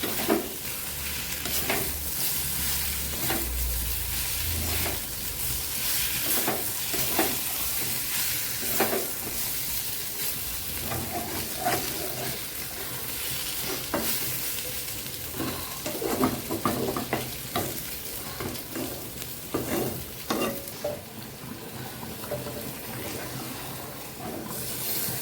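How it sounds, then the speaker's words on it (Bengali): Fried pointed gourd is stirred into spiced mung dal in a hot pan. A continuous loud sizzle and hiss runs under regular spoon scrapes and clinks for about twenty-five seconds. "ভাজা পটলটা দিয়ে আর একটু কষে নেব"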